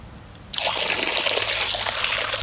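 Water is poured in a thin, steady trickle during cooking for shashlik and shurpa, starting abruptly after a brief quiet moment and then running continuously and close.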